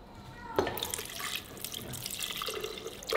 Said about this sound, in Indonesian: Kita bubuh air.